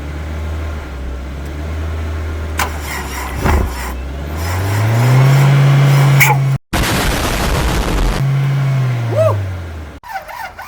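An old BMW 2002, left sitting for ten years, idles and is revved with the choke fully on, engine note climbing to a loud sustained rev, dropping, then rising again, with a brief break partway through.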